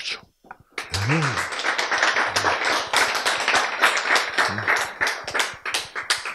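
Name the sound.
audience clapping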